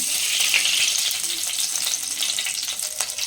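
Oil sizzling as it hits a preheated clay pot for fish curry, a steady, close, bright hiss and crackle that holds evenly throughout with no talking.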